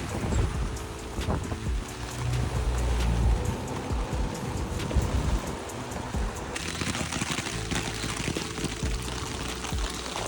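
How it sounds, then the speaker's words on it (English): Heavy rain pours down outdoors as a steady broadband hiss with some wind-like rumble, continuous and moderately loud throughout, with no voices. "It's now chucking it down with rain."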